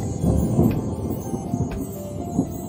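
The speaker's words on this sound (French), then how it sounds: "De l'orage." A thunderstorm rumbles deep and heavy, with rolling low thunder and a few sharp crackles, in a sound-guessing quiz game for children.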